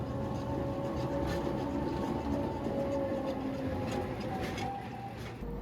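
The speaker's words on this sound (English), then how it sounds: "Diesel 12 climbs past." Snowdon Mountain Railway diesel locomotive Diesel 12 climbing the mountain line, a steady low engine drone with a faint tonal whine holding at a constant level throughout, moderately distant, with no voices.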